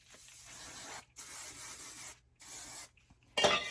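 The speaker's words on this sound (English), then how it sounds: "I am going to lightly spray my favorite hairspray, Kenra number 9" Kenra number 9 hairspray sprayed lightly onto hair in three steady hissing bursts of about a second each with short pauses, followed by a brief rustle of hands in the hair.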